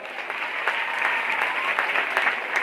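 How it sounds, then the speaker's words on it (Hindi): Audience at a Bhagavat katha, a Hindu religious discourse, claps steadily and densely for nearly three seconds, a close, even wash of hands with no talking over it. "इसलिए इनके लिए एक बार और ताली।"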